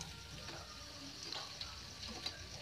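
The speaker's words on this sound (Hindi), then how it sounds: "अब इसे हम पलट देंगे और इसे हम हल्का ब्राउन होने तक फ्राई करेंगे।" Potato jalebi fry in hot oil with a faint, steady sizzle and a few soft ticks of the spatula, heard alone in a quiet kitchen.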